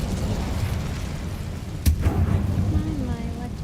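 An Incendio fire spell cast in the Hogwarts Legacy video game lands as one sudden burst over a dense, rumbling game soundscape, followed by a short whooshing tail.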